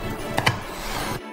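Knife slicing smoky, torch-seared flesh into strips on a board, two quick close chopping thuds in a row, then a short quiet pause.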